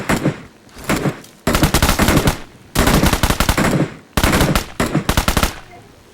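Gunfire in the PUBG battle royale game: three loud bursts of rapid automatic fire, each lasting over a second and separated by brief gaps, close and with no talk.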